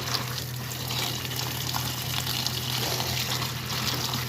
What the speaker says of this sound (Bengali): ভালোভাবে ধুয়ে নিই যদি বালু ফালু থাকে তাহলে